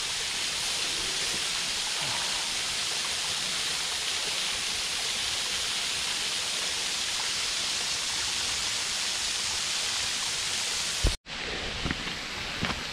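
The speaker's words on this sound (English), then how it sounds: "at the trickling down of Lower Westcliffe Falls, Lower Cliffview Falls" Lower Westcliffe Falls in Ontario pours in a steady, dense hiss of falling water, close and constant throughout, briefly interrupted near the end by a sharp handling bump.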